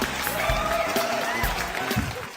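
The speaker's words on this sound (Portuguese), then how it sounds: "Palmas para ele" Audience applause at a talk about street running, faith and overcoming, with dense crowd clapping filling the room steadily for a couple of seconds, a few voices mixed in.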